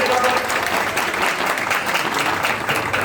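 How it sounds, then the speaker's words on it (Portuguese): Loud, sustained applause from a studio audience at a Brazilian talk show with drag queen guests, dense steady clapping filling the whole stretch without a break. "Aplaude com gosto, gente!"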